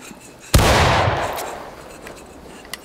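A musket volley in the Civil War game War of Rights, one loud booming crash of massed gunfire that rolls out and decays over a second or more, followed by a faint sharp shot near the end.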